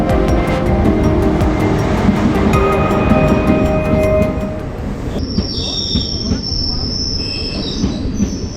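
Train 12678 to KSR Bengaluru pulls into Aluva station with a loud, steady rumble of rolling wagons and squealing wheels, easing to a quieter roll with high metallic screeches near the end.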